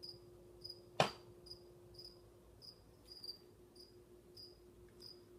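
Crickets chirp in a short, steady repeating pattern inside a bearded dragon's tank, faint and close, with a single sharp knock near the start and a low hum underneath.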